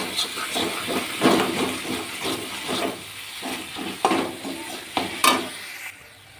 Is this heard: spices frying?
yes